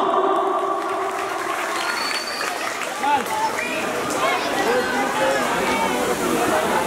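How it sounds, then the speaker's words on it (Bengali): Audience applause for child performers at a stage drama, steady clapping mixed with crowd murmur and some cheering throughout, with a voice talking over it. "জোরে হাততালি তাদের জন্য।"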